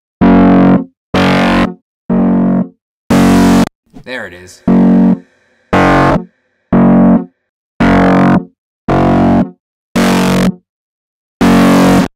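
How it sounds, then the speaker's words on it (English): A Thunderstick electric guitar through analog distortion plays a series of separate heavily distorted chords, each ringing briefly then cutting to silence, with one short voice in the middle. "Let's take this Thunderstick guitar and try that with some analog distortion."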